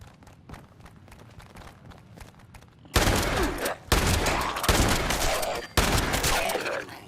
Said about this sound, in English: I want to see how the shotgun works